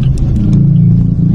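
Trucks and cars idle and creep through heavy stop-and-go traffic on the road from Caloocan North to La Loma, producing a steady, loud low rumble of engines close by.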